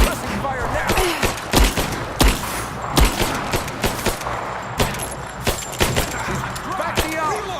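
Rapid bursts of gunfire crack through a firefight in Rise of the Tomb Raider, with a cluster of sharp, loud shots over a steady battle din and scattered voices shouting.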